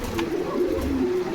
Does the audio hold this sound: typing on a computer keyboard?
no